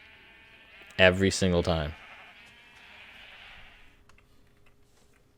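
A sheep on a Minecraft sheep farm bleats in a short, wavering run of three pulses, loud and close, followed by a faint fading tail; a person speaks briefly just after.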